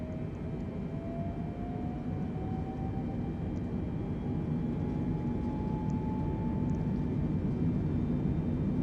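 Engines of an Atlas Air Boeing 747 spooling up for takeoff in Microsoft Flight Simulator 2020, a steady loud roar with a rising whine that climbs slowly and holds throughout.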